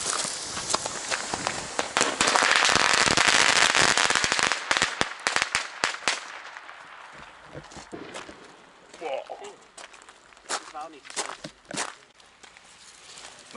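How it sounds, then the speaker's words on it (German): A long chain of firecrackers rips off in a rapid crackling barrage on New Year's Eve, loud and dense at first, then thinning into scattered pops and bangs with outdoor noise between. "alles schön in einer riesen Knallkette mit Match."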